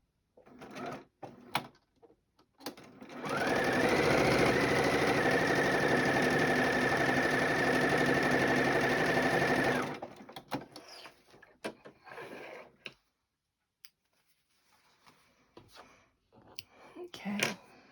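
A domestic sewing machine stitches a quarter-inch seam on charm-square quilt pieces, running in one steady, loud burst of about six seconds, with brief handling noises before and after.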